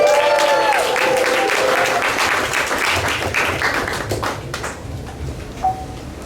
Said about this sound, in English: So make some noise for my boy HX the Poet